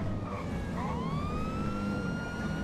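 A police car siren in the game GTA 5 wails with a rising, sweeping tone over a low engine rumble, loud and close, sounding like it comes from a game.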